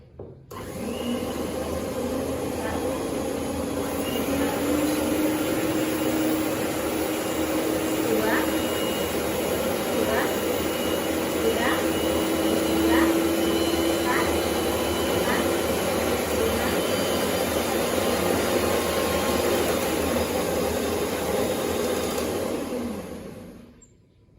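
Advance MX100 stand mixer motor running at speed, a steady loud whirring drone that holds for over twenty seconds with a faint rhythmic ticking inside, near and continuous before cutting off at the end.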